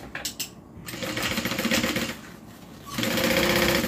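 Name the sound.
sewing machine sewing along a bag's side seam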